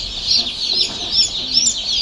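Many small colour bird chicks chirp and cheep constantly together on a chicken farm, a high, busy chatter heard up close.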